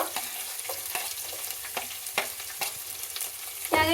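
Onion, potato and carrot fry in hot oil for vegetable pulao, giving a steady close sizzle with stirring scrapes and clinks throughout, growing louder and busier near the end.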